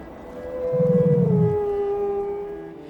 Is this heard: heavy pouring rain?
no